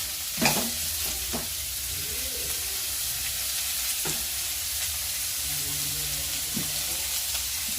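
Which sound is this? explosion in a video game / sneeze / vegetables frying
vegetables frying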